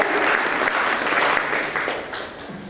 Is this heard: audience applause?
yes